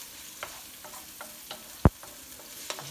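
Garlic and oyster sauce fried rice stirring and frying in a pan, with soft sizzling and a few scraping strokes, one louder clack near the middle, no talk.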